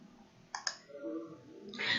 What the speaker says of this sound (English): specify date and click deposit